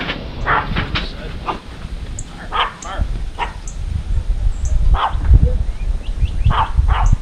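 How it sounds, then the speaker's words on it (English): A dog barks in short repeated bursts over a low rumbling engine-like background, the barks spaced irregularly and fairly close. "What you barking at, Izzy?"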